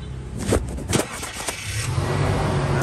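A 2010 Toyota Innova engine cranks with a few short bursts, then catches and settles into a steady idle, fairly close by.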